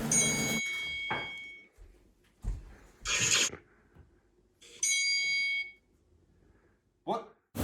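A bell rings in an animal conditioning demonstration, giving two short, bright ringing tones, one at the start and one midway, with thumps, clunks and brief voices in between.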